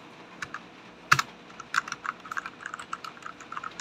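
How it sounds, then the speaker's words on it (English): Typing on an old PC keyboard: a sharp first keystroke followed by a rapid, irregular run of close clicks and clacks, no voices. "Someone else is testing my keyboard for me."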